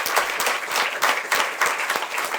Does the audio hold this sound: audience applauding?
yes